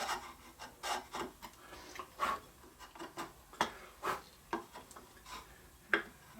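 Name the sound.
trimming wood dovetail with a sharp 3/4 inch chisel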